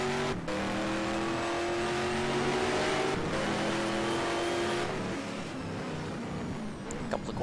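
Ford Mustang race cars in a racing video game, engines revving hard and droning steadily as they slide sideways through a turn, with shifting pitch and a continuous loud roar.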